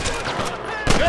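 Gunfire from a Western shootout in the video game Red Dead Redemption, with a steady wash of shots and a louder burst near the end, mixed with game ambience.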